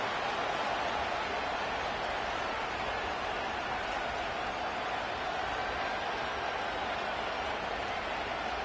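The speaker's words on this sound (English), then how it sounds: "This crowd is making it tough down deep in the red zone." Steady roar of a stadium crowd at an NFL conference championship game, Eagles versus Bears, filling the whole stretch as a dense, unbroken wash of cheering noise with no clear individual voices.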